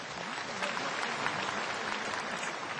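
Audience in a hall applauding, a dense, steady patter of many hands clapping at close range that holds evenly for a few seconds with no speech over it.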